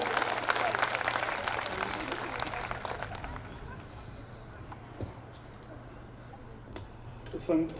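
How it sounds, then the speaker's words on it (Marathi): Audience clapping at a Marathi community gathering to welcome the chairman, dense and loud for about three seconds before fading into scattered claps and room murmur. "एकदा सगळेजण हात वर करून टाळ्यांचा गजर करून अध्यक्ष साहेबांना आमंत्रित करूया"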